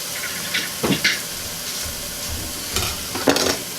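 Food sizzles steadily in a skillet, a close continuous hiss with a few brief scraping stirs and clatters over it.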